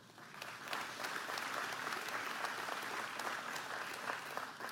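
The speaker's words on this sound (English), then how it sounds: "clapping for the agenda I want to get done" An audience applauds a Michigan governor's policy agenda: steady, dense clapping from a crowd sustains evenly for several seconds at moderate distance, with no voices over it.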